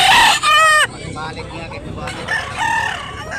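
Roosters crow loudly at a chicken market in Dumanjug, Cebu, one strong close crow at the start and another rising call near the end, with background chatter and clucking between.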